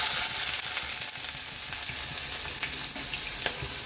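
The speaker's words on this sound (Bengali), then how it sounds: "তেলটা গরম হয়ে গেছে এখানে আমরা দিয়ে দিচ্ছি পেঁয়াজ" Onions sizzling in hot oil in a wok while cooking prawns, a constant bright frying hiss with small pops and crackles running throughout at close range, no voices.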